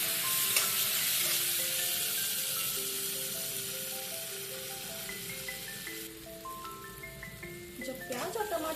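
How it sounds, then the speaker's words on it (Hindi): Chopped tomato hits a hot pan of Maggi masala base with onion, setting off a steady, fairly loud broadband sizzle that runs the whole stretch; background music plays over it. "अब हम इसमें कटा हुआ टमाटर ऐड करेंगे और इसे भी अच्छे से भूनेंगे।"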